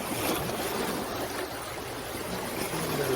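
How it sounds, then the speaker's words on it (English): Lake Michigan waves rolling onto the shore at a roadside park, a steady, close wash of surf that fills the whole stretch with no voices. "Get to hear the waves come in."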